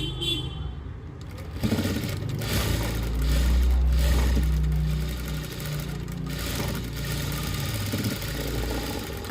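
A sewing machine stitches a lined blouse, its motor whirring in a steady close drone that swells into a louder sustained run midway, then settles back to an even hum.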